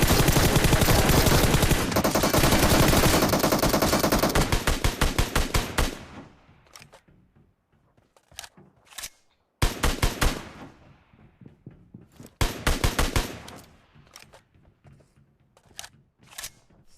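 Rapid gunfire from an SKS rifle in the mobile game PUBG Mobile, loud sustained bursts at first, then separate cracking shots and short volleys with gaps between them, heard alone without talk.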